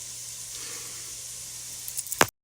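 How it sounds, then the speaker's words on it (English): Quiet, steady sizzling of vegetables frying in a pan, a soft continuous crackle with a few brief louder clicks near the end. "Can you hear that sizzle?"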